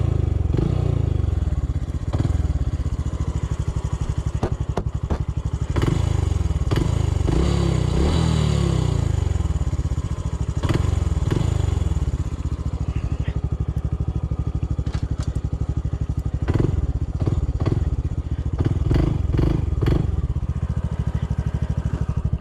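A Honda CT125 motorcycle engine running loud in gear with a mechanical noise from the front of the engine, a steady close drone with clattering knocks and rising and falling revs throughout.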